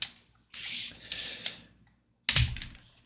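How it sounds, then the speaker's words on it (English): Fine-grit sandpaper rubbed along a thin oak strip for a 1:76 USS Constitution model ship: a few close, soft, hissing strokes in quick succession, a pause, then one more scratchy pass. "sand it with fine grit sandpaper or sponge sandpaper"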